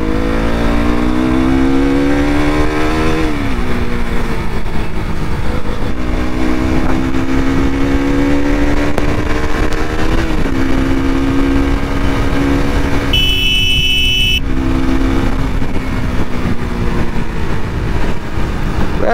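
A KTM RC 200 motorcycle engine under way, droning loud and close with rising and falling revs through gear changes, a sustained mechanical tone with no talking.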